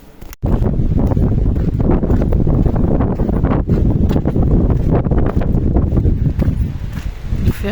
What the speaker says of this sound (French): Il fait un vent.